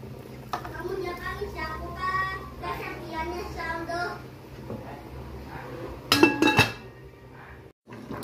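Metal lid going onto a large cooking pot in a kitchen: a short cluster of bright clanks and clinks near the end, after a stretch of talking with faint background hum.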